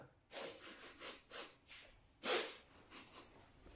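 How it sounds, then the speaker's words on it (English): Someone sniffs repeatedly through the nose in the early morning, a quick run of short, rhythmic sniffs with one sharper, louder sniff near the middle, close and without talk. "The early morning sniff"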